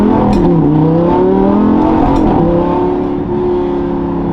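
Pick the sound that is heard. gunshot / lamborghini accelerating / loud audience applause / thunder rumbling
lamborghini accelerating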